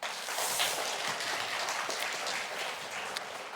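An audience at a university chapel service claps together, a steady, even wash of applause that holds for several seconds at a moderate distance, with no voices over it.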